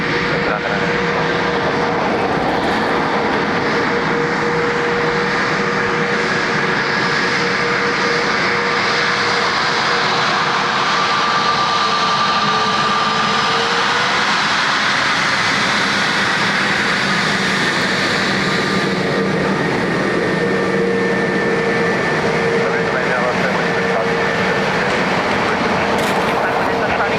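An airliner lands at Dublin Airport on runway 28 left, a loud sustained jet roar with whining engine tones rising and fading over nearly half a minute, with voices faintly mixed in.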